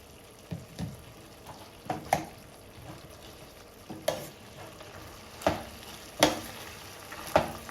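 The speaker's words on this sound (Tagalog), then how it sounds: "ipa-fried po natin syempre ang ating tapa" Beef tapa frying in olive oil with garlic: a faint, steady sizzle with soft intermittent scrapes and clicks as a utensil stirs the pan, heard up close with no talking.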